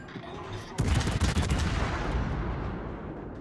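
The battleship Wisconsin's guns fire in the naval video game World of Warships: a sudden loud salvo of booming shots that fades into a long rumbling tail.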